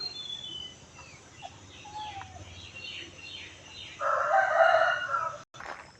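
Chickens, laying hens kept at a temple in Lampang, cluck and crow in a rural morning setting, with a louder burst of rooster-like calling near the end over faint background bird chatter.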